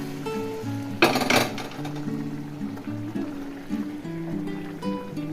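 A spoon scrapes and clinks against a pan as boiled bottle gourd is stirred into a cooked spice mix, with a louder clatter near the start, then steady, close stirring.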